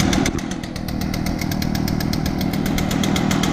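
An Echo backpack leaf blower engine runs close by, a loud, steady two-stroke drone with a rapid buzzing pulse that holds without letup.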